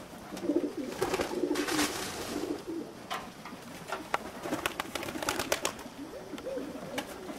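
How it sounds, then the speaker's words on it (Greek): A flock of pigeons lands and coos. Soft murmuring coos and scattered wingbeats rise and fade against an open outdoor background. "Ακόμα έρχονται, είναι πολλά τα περιστέρια."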